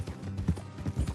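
Horse hooves clip-clop at a steady trot in Red Dead Redemption 2, several soft, muffled thuds in quick rhythm, fairly quiet and close.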